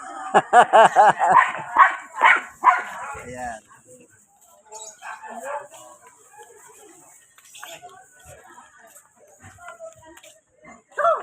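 A small dog on a walk through a barangay yaps in a quick burst of several high barks, followed by quieter rustling and faint sounds, with people talking nearby.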